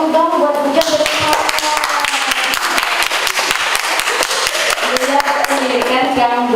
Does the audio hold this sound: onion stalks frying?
no